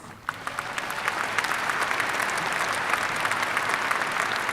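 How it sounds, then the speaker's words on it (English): At a university summer/fall commencement ceremony, a large crowd breaks into applause for campus leaders, the clapping swelling quickly from a few claps into dense, sustained applause filling the hall. "Let's applaud these leaders."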